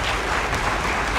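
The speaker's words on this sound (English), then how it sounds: "And give yourself a round of applause." Applause from an audience at a Lawrence County school sports awards ceremony, a dense steady wash of clapping that stays at an even level throughout.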